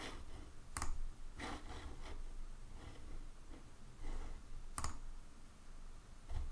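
A computer mouse clicks on a website link, heard as a few sharp, close clicks spread over several seconds. The clicks sit above a steady low background hum, with faint handling and desk noise between them.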